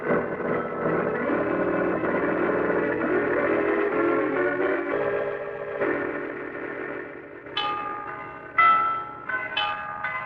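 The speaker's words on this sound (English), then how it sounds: "Who could be ringing those bells?" Bells ring in a bell tower in an old radio mystery drama, with a long sustained wash of resonant tones followed by several sharp, separate strikes near the end.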